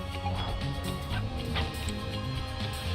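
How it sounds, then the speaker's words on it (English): A pack of cartoonish RooRoo Dogs yips and barks in the video game Finding Paradise, small repeated barks over a busy musical game soundtrack. "Oh, it's a RooRoo Dog army."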